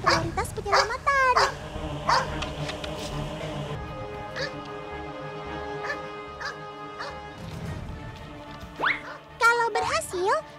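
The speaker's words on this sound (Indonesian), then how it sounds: "ketika menemukan korban yang masih hidup, anjing ini dilatih untuk menggonggong lebih dari 10 kali" A search and rescue dog barks in repeated bursts, loud and close, with yelps and whimpers between the barks, a faint jingle, and people talking in the background.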